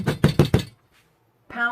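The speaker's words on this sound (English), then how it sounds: "Take a hammer to the bottom of your table and bang it" A hammer bangs four times in quick succession on the underside of a table holding a liquid polymer clay mould, loud and close. A pause of near silence follows, then a voice starts speaking.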